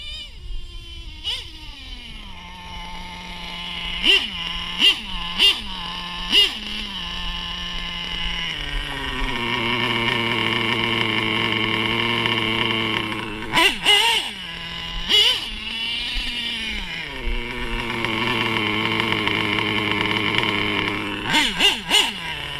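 An LRP nitro engine in an RC truggy revs hard and screams, its high whine rising and falling through repeated throttle blips and longer sustained runs, loud and close with no talk.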